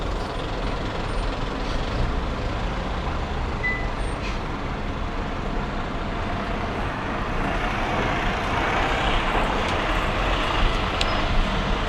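Dense road traffic pouring in through the open driver's window of a moving Hyundai Ioniq 6 electric car, a constant loud roar of engines and tires with faint brief squeaks, no talking over it.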